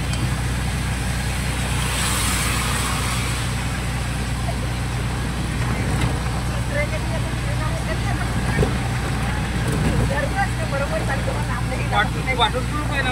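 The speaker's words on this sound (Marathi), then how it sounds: "बघू शकता आज रिक्षा चाललोय आम्ही" Ride in an auto-rickshaw through Mumbai traffic, a constant engine drone and road rumble close by, with passing vehicles and voices talking over it.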